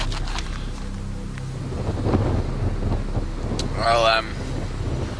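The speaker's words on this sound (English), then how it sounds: "I don't know whether you can even hear me because of that wind." Strong headwind buffeting the microphone of a cyclist riding around the world, a loud continuous low rumble with gusts throughout, while someone speaks briefly over it.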